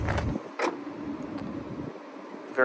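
Electric motors hum steadily as the power-folding seats of a BMW X7 fold up together, a soft continuous whir inside the cabin broken by a few faint clicks and thumps at start and end.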